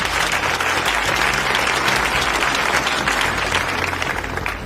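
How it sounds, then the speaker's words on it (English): An audience at a memorial gathering for Prophet TB Joshua applauds, a dense and sustained wash of clapping from many hands that stays loud and even throughout before easing slightly at the end. "let's give him a round of applause"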